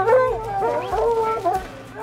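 Hunting hounds on an Appalachian bear hunt whine and howl close by, with wavering, overlapping cries rising and falling continuously.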